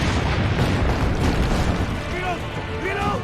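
Cannon fire booming in Assassin's Creed Brotherhood, heavy rumbling blasts blending into a loud chaotic battle wash, with voices shouting over the noise.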